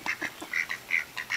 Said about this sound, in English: We are at Lake Wiley feeding the ducks.